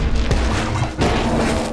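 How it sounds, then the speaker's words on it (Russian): A cartoon explosive spit goes off as a short, heavy booming crash, with a loud blast near the start and a second thumping burst about a second later, in a Russian-dubbed animated series. "Взрывной плевок?"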